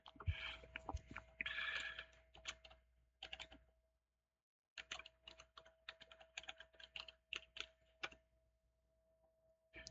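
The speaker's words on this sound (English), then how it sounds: "I'll just type my password" Quiet, close keystrokes tap on a computer keyboard as a password is entered, coming in irregular bursts with a short pause midway.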